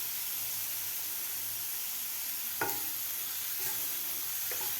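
Broccoli stuffing for paratha is stir-fried in a pan with coriander leaves, giving a loud, continuous sizzling hiss with a few sharp clicks of the spatula against the pan.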